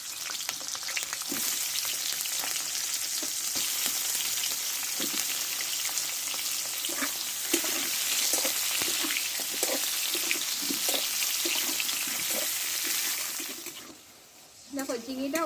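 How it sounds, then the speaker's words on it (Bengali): Ridge gourd fries lightly in oil, a loud, continuous sizzle with scattered stirring knocks and bubbling, easing off near the end. "ঝিঙেটাকে একটু কষে নেব।"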